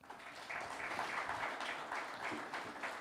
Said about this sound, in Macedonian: И за него еден аплауз